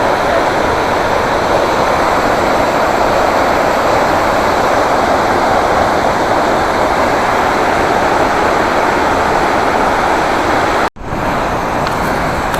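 A mountain waterfall cascade in the Altai roars in a dense, continuous rush of falling water, loud and close, with a brief cut near the end.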